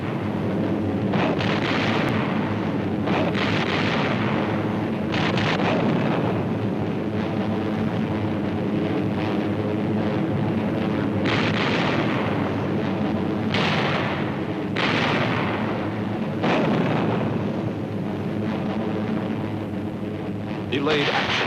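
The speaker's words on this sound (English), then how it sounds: "Fragmentation bombs attached to parachutes." Parachute fragmentation bombs detonate in archive Pacific War film audio, with repeated loud, rumbling booms rolling one into another under continuous dense low roar and noise.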